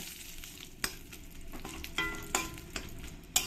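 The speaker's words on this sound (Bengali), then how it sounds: "দু তিনটে তেজপাতা দিয়ে ভালো করে আমি একটু ভেজে নেব" Two or three bay leaves frying in oil with cumin and dried red chillies: a quiet, steady sizzle punctuated by several sharp spatula scrapes and taps at irregular intervals.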